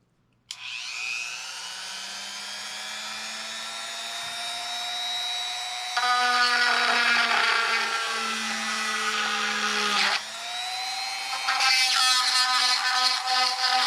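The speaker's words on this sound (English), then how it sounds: "Go ahead and drill a hole in here." A high-pitched Dremel rotary tool whines steadily and close, its pitch dropping and roughening as it bites into material drilling a hole, then revving again.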